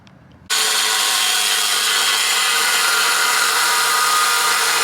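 Power tool cutting through a car frame on a bagged K5, starting abruptly after a brief quiet moment and then running as a loud, continuous, harsh grinding whine that stays close and steady throughout, with no speech.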